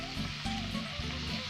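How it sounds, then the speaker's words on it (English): Small chopped pieces of bacon sizzle and crackle loudly in a hot pan, a dense, continuous frying hiss heard up close. "the first thing that you have to do is fry your bacon"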